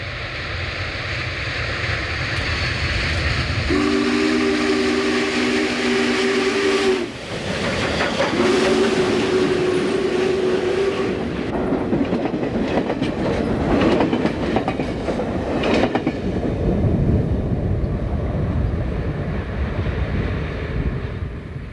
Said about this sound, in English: the train passes through BU Tunnel.